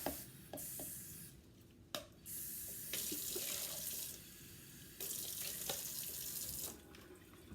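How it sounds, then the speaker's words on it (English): Tap water runs into a cup in a home craft setup for fabric dyeing, a steady close splashing stream broken by short pauses and small knocks. "So I'm just going to get more water in a different cup."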